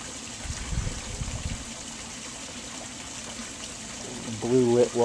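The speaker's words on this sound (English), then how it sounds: "Blue-lit waterfall." Backyard pond waterfall with blue lighting, a soft continuous trickling and splashing of water heard fairly steadily, with a voice speaking briefly near the end.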